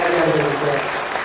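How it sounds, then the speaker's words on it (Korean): Church congregation clapping in a welcome, a brief, dense burst of applause filling the hall with a faint voice mixed in. "박수해 주시죠."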